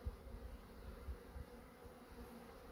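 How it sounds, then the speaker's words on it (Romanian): Honeybees flying around their hives on a mild February day, a steady close buzzing drone with soft low thumps and no talking. "albinele au un zbor frumos, azi sunt vreo 9 grade"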